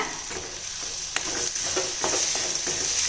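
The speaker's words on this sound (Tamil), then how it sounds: "தக்காளியை கொஞ்சம் கரண்டியால் கொஞ்சம் மறித்து விட்டுக்கலாங்க" A ladle stirs tomatoes and brinjal frying in oil, giving a bright continuous sizzle with repeated soft scraping strokes against the pan, close and steady with no voices.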